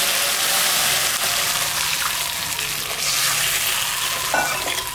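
Water splashed into a hot pan of oil after fish has been fried hisses into a loud, bright sizzle that carries on steadily, close up and without talk.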